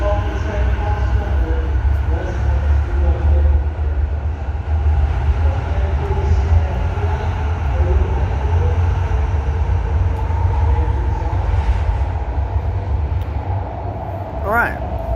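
A metro train moves through a Melbourne Metro Tunnel station with a low, steady rumble, while a station announcement plays over it and a brief squeal sounds near the end.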